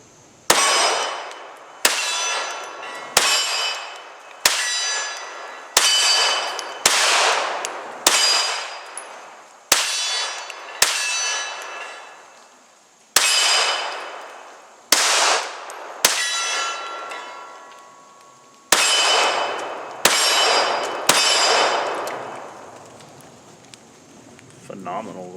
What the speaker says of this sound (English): Some more trigger time with the Sig P320X Compact.